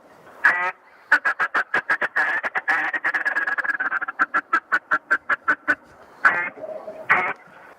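A hand-blown duck call imitates mallard quacks. A close, loud, rapid run of evenly spaced quacks rises and falls in a long cadence between a few longer drawn-out calls, with no talking.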